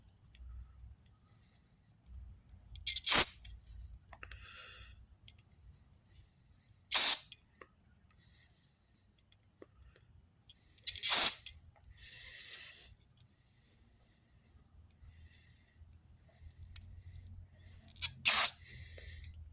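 Four sharp bursts of a garden-hose-style spray forcing water through the small holes of an old salvaged pressure washer part, each a second or less, spaced a few seconds apart over a low steady hum, with no talk.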